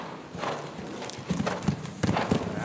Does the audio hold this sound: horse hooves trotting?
yes